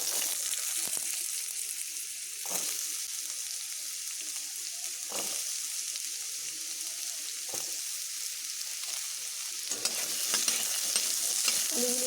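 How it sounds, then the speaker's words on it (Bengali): Potato pieces fry in a pan with a continuous close sizzle and crackle, punctuated by several brief scraping stirs, growing a little busier toward the end. "এবার আমি আলুগুলোকে ভেজে নেব।"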